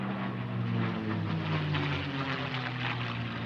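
A propeller aircraft flying aerobatic maneuvers at the SUN 'n FUN air show gives a sustained, moderately distant engine drone with a slowly shifting pitch.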